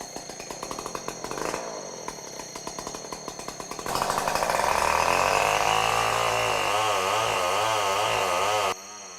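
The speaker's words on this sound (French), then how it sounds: "On n'aime pas entendre les tronçonneuses." Chainsaws cutting wood in a Sumatran forest, loud and close, first sputtering and revving in rhythmic pulses, then roaring into a sustained high whine that wavers as the blade bites and cuts off abruptly near the end.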